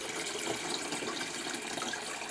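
Water from a 4-liter jug pours steadily into a Honeywell large room warm mist humidifier, a continuous close gushing stream with no talk.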